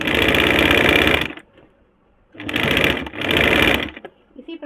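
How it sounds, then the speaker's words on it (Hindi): Sewing machine stitching the side seam of a Nyra cut kurti, running in two loud sustained bursts with a quiet pause between them and a brief clatter at the end. "इसी प्रकार से इस साइड का भी सिलाई कर लेंगे"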